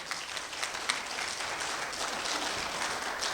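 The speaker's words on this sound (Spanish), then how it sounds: "Ese aplauso es para Él." A congregation at a church service applauds steadily, a dense wash of clapping that holds at an even level throughout.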